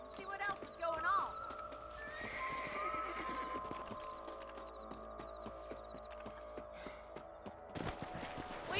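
Horses whinny and hooves clip-clop in the Red Dead Redemption video game, a neigh early on followed by steady hoofbeats and rustling, with game voices speaking over parts of the scene.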